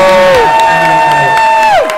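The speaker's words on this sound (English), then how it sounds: "the only way for me to hear right around this wonderful terminal is by applause" A loud crowd at the Carnival Venezia cruise terminal celebration cheers, with high rising whoops and shouts overlapping in an excited burst that swells and then breaks off.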